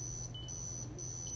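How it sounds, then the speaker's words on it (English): Buzzer on a Falcon Heavy model rocket's flight computer sounds during a test, giving a steady high electronic tone that breaks briefly twice, with a faint hum underneath and no talking. "I can also test the buzzer"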